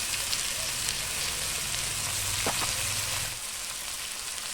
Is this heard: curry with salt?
yes